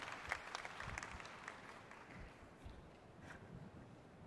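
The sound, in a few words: audience applause for the panelists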